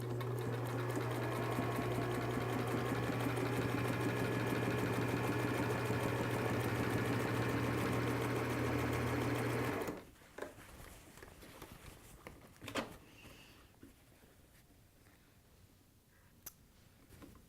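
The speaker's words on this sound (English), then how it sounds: "we're going to sew from one end of the band to the other end" Sewing machine stitching along a cap band, running loud and steady with a fast, even mechanical whir for about ten seconds, then stopping, followed by quiet handling sounds and a few faint clicks.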